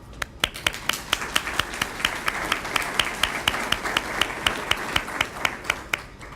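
A room at a school partnership breakfast claps for Waco ISD faculty and staff. The sharp, fairly close claps come in a quick, uneven rhythm and sound like a modest group rather than a full crowd.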